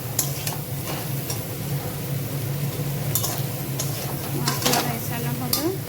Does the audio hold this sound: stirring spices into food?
yes